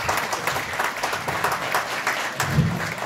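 Applause from a stand-up comedy club audience, a continuous wash of clapping with a few louder claps near the end, heard without talk.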